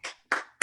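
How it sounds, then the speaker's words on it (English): Clapping for comedian Brian Wall at an online Zoom comedy show, three short sharp bursts of hand claps spaced evenly, fairly close and moderately loud. "Can I get a clap, clap, clap, clap, clap, clap, clap, clap, clap, clap, clap, clap, clap for Brian"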